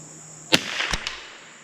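A CZ 457 rifle fires at a target 100 yards away, giving a sharp close crack followed by a second report and a fainter late snap, with quiet hiss between.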